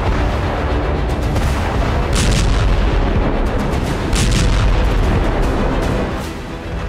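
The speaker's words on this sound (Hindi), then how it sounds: "पहली बार क्लस्टर बम का इस्तेमाल किया गया है" Cluster bomb explosions in the Russia-Ukraine war: a dense, continuous roar of booming blasts and crackling detonations, loud and close throughout, with brief heavier bursts rising out of the rumble.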